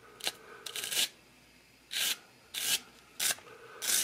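A stainless steel brush scrubs a Singer 201K sewing machine bobbin winder in several short, close bursts of bristly scratching separated by brief pauses.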